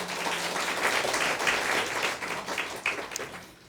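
A church congregation claps during a sermon, a steady mass of hands sounding for several seconds and then thinning slightly toward the end, moderately loud.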